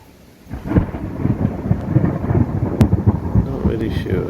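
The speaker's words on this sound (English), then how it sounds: "Yeah, that's lightning." A rainy thunderstorm at night around a Jeep rooftop tent, where thunder breaks in suddenly and keeps rolling in a low, continuous rumble over the patter of rain, fairly loud and close, without any voices.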